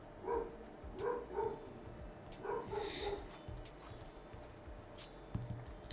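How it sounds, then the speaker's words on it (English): Several dogs barking in short bursts somewhere in the distance, faint and intermittent over a low background hum, with no one talking. "Glad the dogs are barking at surely a lot of things."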